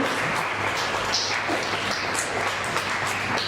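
A crowd at a book launch in a hotel applauds steadily, many hands clapping in a dense, even patter that holds at a constant level throughout.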